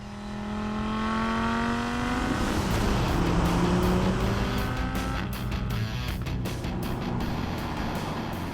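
An Audi R8 V10 Spyder's 5.2-litre V10 engine revs hard and close, its tone climbing steadily, then holding as a loud, sustained roar with no talking.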